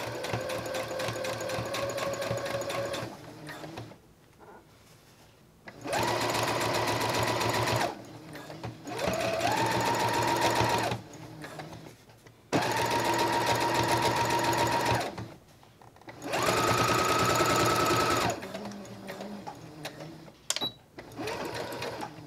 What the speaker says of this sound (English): just take that over to your sewing machine